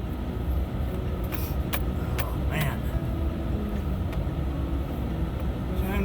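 Four-wheel-drive vehicle pulling off a frozen lake up a ramp at Leaf Lake, Minnesota: a steady low engine and rumble close by, with a few faint clicks and knocks over it.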